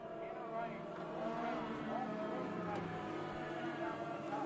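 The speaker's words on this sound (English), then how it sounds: "Legend cars on the racetrack." Legend cars race on a speedway track, a sustained engine drone with shifting pitch as cars pass, heard under a commentator's voice throughout.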